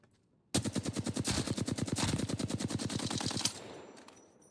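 Rapid automatic gunfire from a weapon in Apex Legends, a single loud burst of roughly thirty closely spaced shots lasting about three seconds, with a brief ringing tail after.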